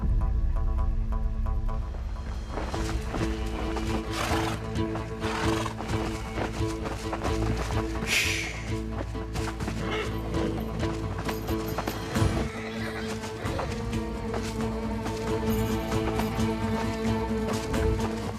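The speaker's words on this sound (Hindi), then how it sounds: "वो रहा सुल्तान का घोड़ा।" Horses galloping in a historical drama battle or chase scene, a dense continuous rumble of hooves with neighs, set under a loud musical score and ambient sound.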